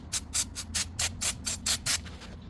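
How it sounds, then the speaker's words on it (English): Brake cleaner from an aerosol can sprayed onto a rag in a series of about eight short, sharp hissing bursts in steady rhythm, close by, with no talking. "spray it on the rag just like so."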